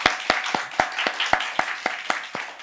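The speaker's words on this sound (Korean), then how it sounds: "올 한 해 잘할 수 있도록 격려 박수 한번 할까요?" A church congregation clapping together in a steady, rhythmic beat: about ten sharp, evenly spaced claps in unison, fairly close and clear.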